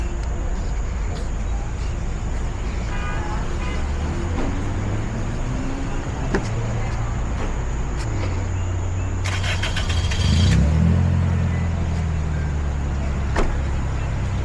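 An Infiniti Q50S with full bolt-ons and turbocharged engine drones low and steady from inside the cabin, then surges briefly with a rising intake and turbo rumble before settling again.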